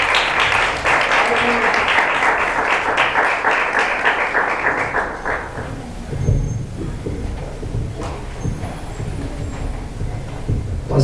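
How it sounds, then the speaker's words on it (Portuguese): Congregation applauding during a church service, a dense wash of clapping that fills the first half and then fades into low room murmur and rumble. "As palmas louvam o Senhor."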